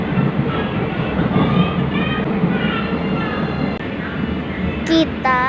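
Cut Meutia passenger train running steadily on the rails toward a station, a continuous rumbling roll of wheels with faint clatter, close and loud, with a brief high squeal near the end.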